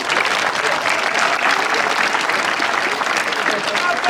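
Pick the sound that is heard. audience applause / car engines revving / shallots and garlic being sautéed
audience applause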